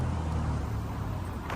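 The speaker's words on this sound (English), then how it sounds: "Excuse the road noise" Continuous road traffic noise from a busy main road beside a caravan site near a racecourse, a steady broadband rumble of passing cars and heavier vehicles with no talking.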